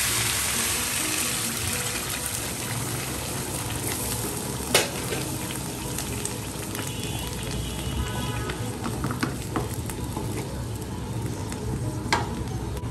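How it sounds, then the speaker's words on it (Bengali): Hot water goes onto fried rice in a pot, raising a loud, continuous hiss and bubbling sizzle with stirring scrapes and a couple of sharp clanks, close up and without talk. "এবার গরম পানি দিয়ে দিচ্ছি।"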